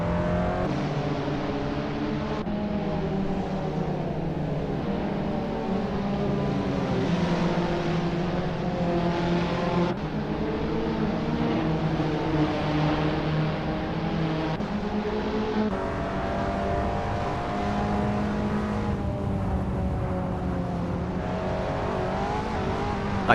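Abarth 500 race cars battling for position at Prague in Assetto Corsa, a steady layered drone of several engines revving and shifting together, loud and continuous with no talk.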